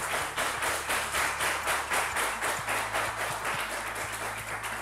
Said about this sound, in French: Merci d'applaudir mes 6 prétendants au trône.